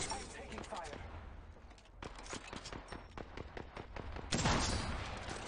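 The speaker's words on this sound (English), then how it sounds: "I just missed a bunch of shots with the rampage" Rapid bursts of gunfire from the Rampage light machine gun in the Apex Legends video game, rattling in repeated volleys with a louder burst near the end, under excited voices.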